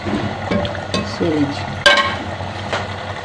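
Hot ghee with red chillies is poured over boiled white chickpeas, giving a loud close crackling sizzle with a sharp burst partway through that settles into steady frying hiss.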